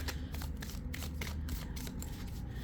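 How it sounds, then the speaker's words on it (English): Soft, continuous riffling of a tarot deck shuffled by hand nearby, with quick crisp card flicks repeating steadily at low volume. "I keep shuffling"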